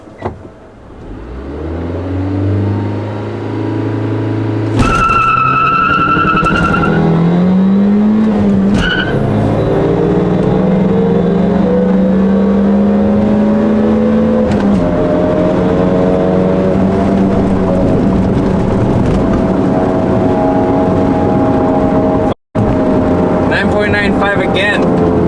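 A 2001-2005 Honda Civic with a 1.7L engine and a new K&N air filter revs up, then launches hard with a sharp tire squeal. Loud engine drone climbs steadily through the gears, close to the microphone, with a brief dropout near the end.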